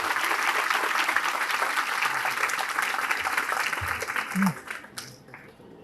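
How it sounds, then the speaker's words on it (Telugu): An audience at a government junior college girls' Telugu dance festival claps loudly and steadily, a dense sustained wash of applause that fades out near the end, with a few brief voices at the tail. "వాళ్ళ గట్టిగా చప్పట్లు కొట్టి మనం ఎంకరేజ్ చేయాల్సి ఉంటుంది"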